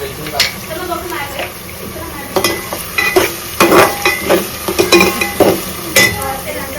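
Onion with a little salt frying in a pan, a soft sizzle under repeated scraping and clinks of a spoon stirring against the pan; some speech may be present alongside.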